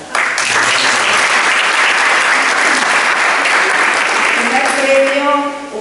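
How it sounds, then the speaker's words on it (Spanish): Loud, dense audience applause at an environmental arbitration competition award ceremony, a steady wash of clapping filling the whole stretch, with a voice starting to speak near the end. "Hagamos más cortos los aplausos"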